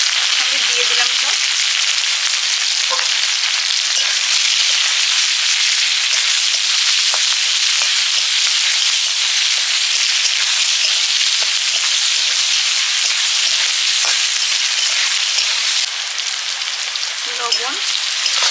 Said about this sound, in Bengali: রসুন, থেতো করা রসুন, পেঁয়াজ কুচি, কাঁচা লঙ্কা একসঙ্গে দিয়ে দিলাম সব।